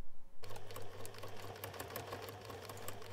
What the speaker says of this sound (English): I'm going to use a 3 millimeter stitch length for the top stitching and the quilting.